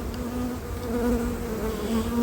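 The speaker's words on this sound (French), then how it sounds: "Voilà, là où il y a l'abeille" Honeybees, likely Buckfast, buzz across a hive frame in a steady, dense drone, close and continuous without pause.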